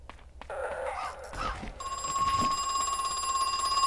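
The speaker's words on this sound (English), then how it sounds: "Phone call" A telephone rings in the horror video game Crow Country, a bright electronic trill that starts after a few soft clicks and footsteps and then sounds continuously and loudly to the end.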